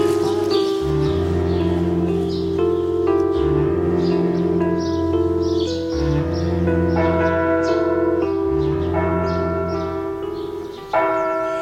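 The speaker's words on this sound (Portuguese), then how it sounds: "é ir dormir e acordar com os sinos das igrejas" Church bells on the Camino de Santiago peal loudly and close in a repeating pattern of several tones, with a low bell sounding at regular intervals and faint birdsong in the background.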